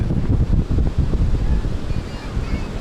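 Strong wind buffets the microphone over the steady roar of ocean surf at Sea View beach in Karachi on an early morning, a loud, continuous rumble with no talking.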